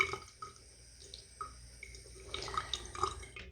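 A makeup brush is rinsed under running water, with a soft background trickle and scattered drips and splashes, which grow busier and more frequent toward the end.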